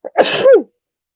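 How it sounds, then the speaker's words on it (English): A single sharp sneeze from a person, loud and close, preceded by a brief inhale and ending in silence. "Everyone sneezes."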